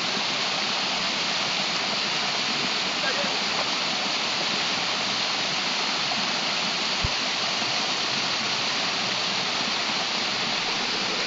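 A waterfall stream at Las Batuecas pours in a steady, dense broadband rush of falling water, constant and close throughout with no pauses, a single brief knock near the middle.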